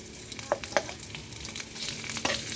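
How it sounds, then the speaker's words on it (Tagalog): Dried sapsap fish frying in hot oil in a wok, a steady crackling sizzle with a few sharper pops near the start, close and moderately loud, with no talking. "Pag nag-init ng mantika, lagay ito na ito ang tuyong sap-sap o uga."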